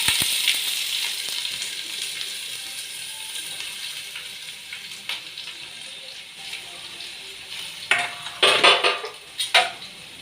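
Onion and green chilli fry in a pan for a Karunagappally-style tuna fish curry, with a steady soft sizzle and a few sharper metallic clatters of a spoon against the pan near the end.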